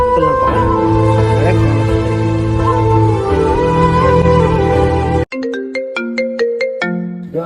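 A mobile phone ringtone plays loud and close: first a dense, layered melody, then a cleaner run of distinct bright notes in a bouncy repeating pattern.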